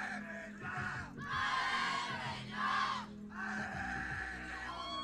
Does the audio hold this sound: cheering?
yes